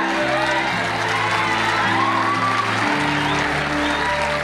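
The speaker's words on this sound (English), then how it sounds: "I see the way you are clapping" A church-service audience claps loudly and continuously, with scattered cheers and voices mixed into the steady applause.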